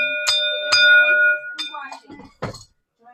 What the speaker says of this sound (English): Let me go ahead and ring my bell 5 times.